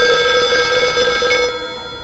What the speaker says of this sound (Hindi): फिर उसने सोचा शायद प्रीति को रिंग गया हो और उसी ने पलट के फोन किया हो, तो उसने झट से रिसीवर उठाया।